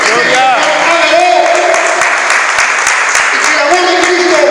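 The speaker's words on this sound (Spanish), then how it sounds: "Un aplauso al Señor." Congregation applause at a church service fills the room with dense, steady clapping, loud and close, with a voice speaking over it.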